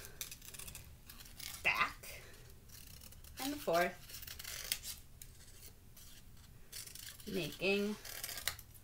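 Scissors cut through folded paper in three separate bursts of crisp snipping and rasping, close to the listener, with a voice talking between and over the cuts.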